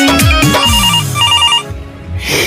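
A mobile phone ringtone plays loudly and close, a melodic electronic tune with repeating beeping notes over a musical backing.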